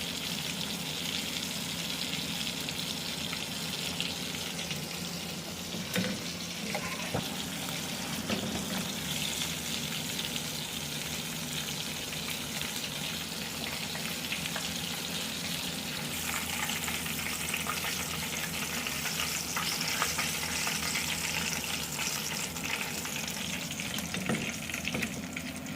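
Breaded chicken panee fries in hot oil with a steady, dense sizzle that lasts throughout. Faint scrapes and stirring clinks sound now and then, and no one speaks.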